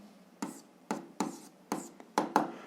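A pen writing out an algebra equation in short scratchy strokes, about six distinct bursts in an uneven rhythm, close and clear with nothing else heard.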